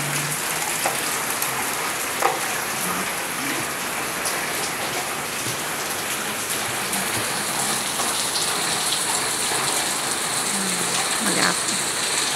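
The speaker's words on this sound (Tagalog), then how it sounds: "Umuulan dito sa Bulacan, guys." Steady rain patters and hisses on surfaces, even and unbroken, with a few scattered drips and faint background noises, in Bulacan, Philippines.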